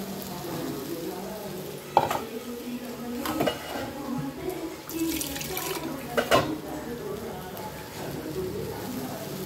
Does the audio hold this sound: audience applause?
no